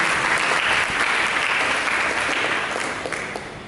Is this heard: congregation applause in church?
yes